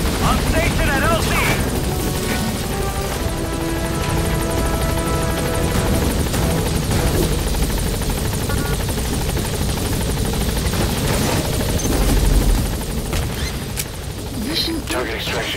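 Helicopter arriving in Metal Gear Solid 5, its loud rotor drone and engine roar sustained throughout the game scene, with voices and other game sounds mixed in.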